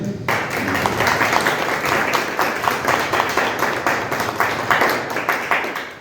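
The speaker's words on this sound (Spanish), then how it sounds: "les pido un aplauso para nuestra hermana" Applause from an audience at a church book presentation for someone speaker, a dense wash of clapping with distinct individual claps pulsing throughout, fairly close and sustained.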